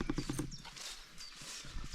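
Hooves of a mare clip-clopping in a quick run of close, distinct steps at first, then fading into softer outdoor noise.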